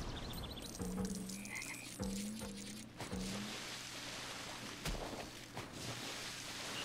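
Frogs croaking in the LEGO Harry Potter video game, several short, distinct croaks repeating at irregular intervals over a steady hum of ambient game sound.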